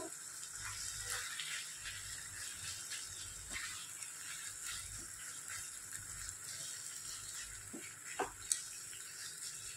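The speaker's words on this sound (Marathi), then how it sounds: "आता मी यात किमा घालते चिकनचा." Chicken mince goes into a pan for kheema and is stirred, giving a soft, steady sizzle with faint scraping and a couple of sharp clinks near the end, all fairly quiet.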